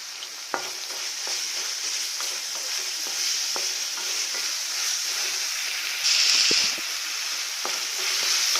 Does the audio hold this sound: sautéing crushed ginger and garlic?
yes